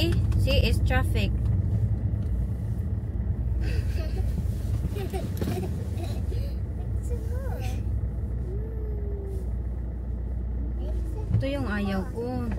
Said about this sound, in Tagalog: See, it's traffic.